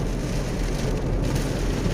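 Rain falling steadily in Buriram, Thailand, a dense, loud wash of hiss and patter that holds unbroken throughout, with no voices over it.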